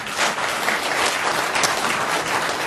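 An audience at a New Year's greeting ceremony of the Ansan Chamber of Commerce applauds steadily, a dense, even wash of many hands clapping throughout without letting up.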